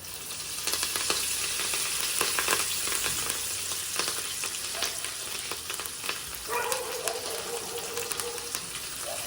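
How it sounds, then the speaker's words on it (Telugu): Fresh curry leaves frying in hot oil in a pan, a steady close crackling sizzle with sharp pops scattered throughout, for sambar rice. "కరివేపాకు కూడా మనకి బాగా వేగింది"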